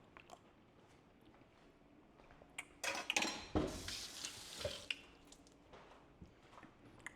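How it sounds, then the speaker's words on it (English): Avocado salsa verde being stirred in a bowl, a few soft wet squelches and clinks, loudest in a brief burst midway, with quiet scraping before and after. "We're gonna give it a little stir and taste it."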